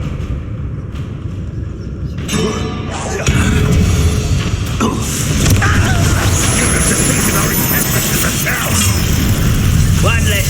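The Confringo blasting spell goes off in Hogwarts Legacy with a loud booming burst that gives way to a sustained, roaring rumble and crackle, with voices under the din.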